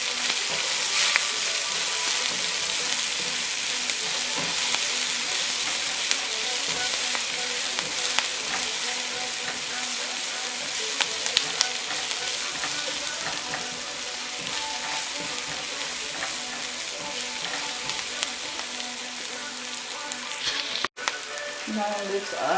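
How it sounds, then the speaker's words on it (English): Chopped onion browning in a pan for chicken cacciatore, a continuous loud sizzle and crackle that holds steady for a long stretch, with occasional stirring scrapes and a sudden cut near the end. "Now let's add the onion, and let the onion brown also."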